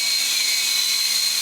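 A Syma S301G RC helicopter flying indoors gives a steady, high-pitched whir from its small rotors and motor, continuous and fairly close for about a second and a half.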